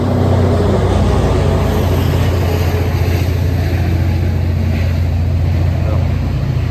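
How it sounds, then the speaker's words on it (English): A loud, steady engine drone rumbles without a break for the whole stretch, a heavy low hum with a faint windy hiss on top and no clear change in pitch. "The engine is always so loud."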